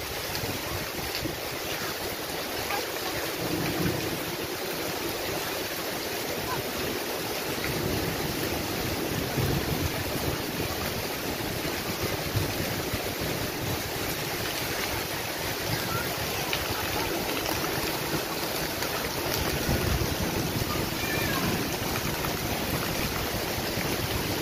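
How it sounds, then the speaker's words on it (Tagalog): Very heavy rain pours down in a dense, unbroken roar that holds steady and loud throughout, with water overflowing. "Kasi sobrang lakas po ng ulan"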